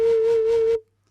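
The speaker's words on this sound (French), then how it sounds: "c'est le principe de la flûte native américaine." A homemade plastic double flute in the style of a Native American flute sounds one steady, breathy note that is loud and close. It lasts under a second and then stops cleanly.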